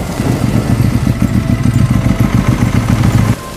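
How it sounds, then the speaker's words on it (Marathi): A motorcycle engine idling close by with a steady, throbbing rumble that cuts off abruptly near the end. "त्या घराच्या गेटसमोर एक बाईक येऊन थांबली"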